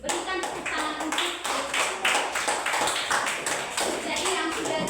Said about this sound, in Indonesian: Oke, give applause to you friends.